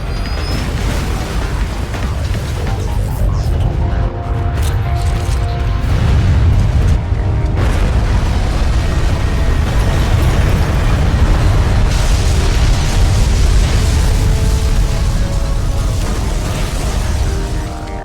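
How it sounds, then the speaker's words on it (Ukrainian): Continuous heavy rumbling and booming explosions from a game, dense and loud throughout, layered with roaring noise and faint musical tones. "Постійно дещо щось вибухає"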